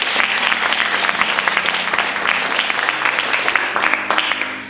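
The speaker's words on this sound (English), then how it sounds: "you will receive a round of applause as you begin your journey" Audience applause fills a stage show as participants hold sealed items aloft to begin, dense steady clapping throughout with a low sustained musical tone underneath.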